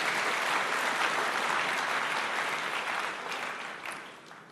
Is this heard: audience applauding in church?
yes